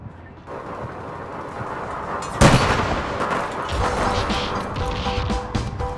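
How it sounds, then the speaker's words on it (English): A sharp, loud gunshot from a pistol in the APB Reloaded video game cracks out midway, followed by a rumbling, noisy game backdrop with fainter impacts. "That was a pistol"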